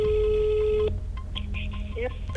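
A telephone call rings with a steady electronic tone for just under a second, then cuts off as a woman answers and starts talking.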